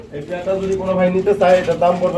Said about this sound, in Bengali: ফুল রানিং ডিম করানো এই মডেনা কবুতর জোড়াটা